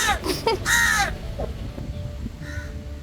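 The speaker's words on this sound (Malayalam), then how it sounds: "കാക്ക വിരുന്ന് വിളിക്കുന്നുണ്ടല്ലോ" Crows in Kerala caw loudly and harshly at close range, with a burst of several rapid calls followed by a fainter, more distant caw.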